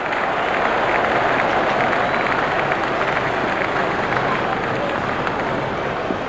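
A large stadium crowd in the Real Cricket 25 video game roars and applauds in a steady, dense wash of cheering that holds at the same level throughout, with a commentator speaking over it.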